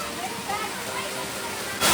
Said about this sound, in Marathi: नदीला कंटिन्यू पाणी बारमाही पाणी वाहत असते इथं आता पावसाळा जास्तच पाणी आहे